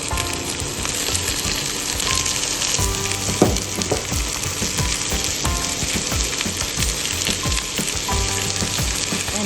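Tomatoes hitting a hot pan of egg masala with ginger and garlic, a loud steady sizzle with crackling pops and occasional stirring scrapes, close up and without voices.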